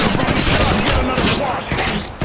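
Apex Legends gunfire as a dense, continuous fusillade of overlapping shots and impacts, loud and close, with game effects and faint voices mixed in over about two seconds.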